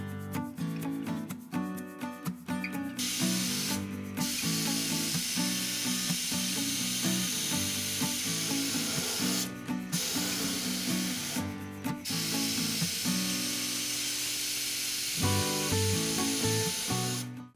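Spray gun laying black epoxy primer inside a car interior: long, close hissing bursts broken by a few short pauses, over an underlying steady mechanical hum, no talk.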